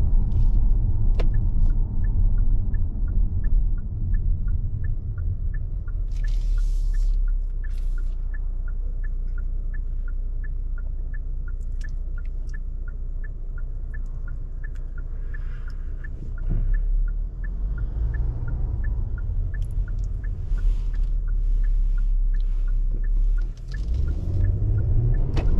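Engine of a 2019 Kia K900 luxury sedan with the VIP package, a steady low hum and rumble heard from inside while driving, fairly loud and continuous, swelling near the end.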